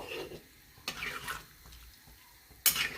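Masala soyabean curry in a pan on medium-low heat, with soft bubbling and a few sharp clinks and scrapes of a spoon against the pan, all close and fairly quiet.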